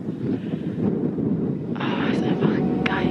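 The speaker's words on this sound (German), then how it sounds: "auf jeden Fall ultra kalter Wind" Cold wind roars steadily across the summit of Acatenango volcano, a loud broadband rush that builds and gusts harder toward the end.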